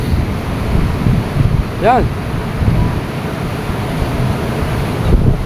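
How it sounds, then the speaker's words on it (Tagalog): Ocean waves washing up onto a beach and reaching a shoreline hut, heard as a steady broadband wash with wind noise, under scattered talk. "Mga naabot na pala ito ng alon oh."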